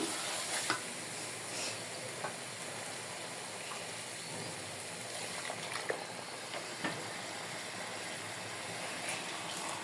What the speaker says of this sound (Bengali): এই যে মশলার সাথে ভালোভাবে কিছুক্ষণের জন্য একটু কষায় নিলাম